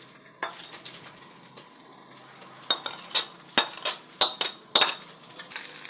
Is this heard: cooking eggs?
yes